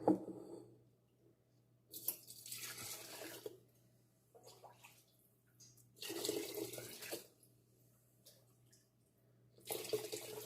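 Homemade broth is poured into canning jars in bursts of splashing liquid separated by quiet pauses, close and fairly soft over a faint low hum.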